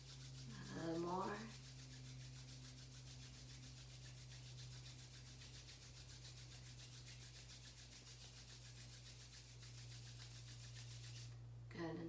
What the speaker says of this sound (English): gently rub your hands together so you can create some heat in between your hands